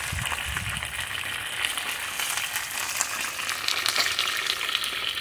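Chicken legs frying in hot oil, a loud, dense, continuous sizzle with crackling spatter throughout.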